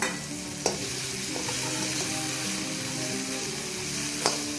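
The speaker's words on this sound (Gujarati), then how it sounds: "મિક્સ કરીને બધું આપણે એકસાથે હલાવી લેવાનું છે" Asafoetida and ginger tempering stirred in a frying pan for spiced Gujarati rice, a steady sizzle with a couple of sharp clicks of the spoon against the pan, no talking.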